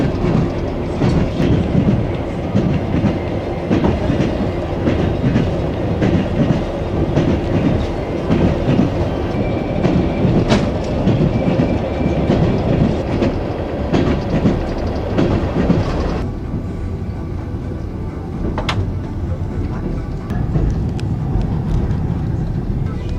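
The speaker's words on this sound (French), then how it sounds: "dernier jour dans le transsibérien" Trans-Siberian railway train running through the Birobidzhan region toward Khabarovsk, a steady loud rumble with rhythmic clickety-clack of wheels on rail joints throughout, heard from inside the carriage.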